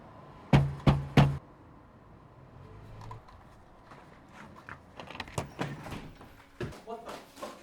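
Three sharp, loud knocks on a door in quick succession, followed by fainter rustling and thuds with muffled voices in the background.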